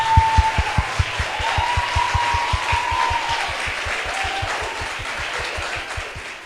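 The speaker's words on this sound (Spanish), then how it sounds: "Les doy un fuerte aplauso también a todos ustedes." A steady run of rhythmic handclaps at a school TED Club talk event, fairly loud and evenly paced, with a sustained tone sounding above them.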